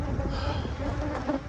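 Honey bees buzzing in a West Texas bee yard while hive boxes of cotton honey are pulled, a dense steady drone of many insects all around, close and fairly loud, with no speech.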